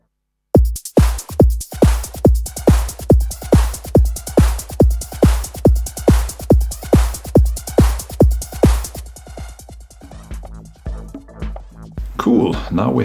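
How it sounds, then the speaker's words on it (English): Korg Volca Beats drum pattern in a Goa psytrance style: a steady four-on-the-floor kick with crisp closed and open hi-hats ticking between beats, loud and close, thinning out near the end into a short noisy burst. "And now I will also add some hi-hats from the Korg Volca beats, simply because I really love these hat sounds"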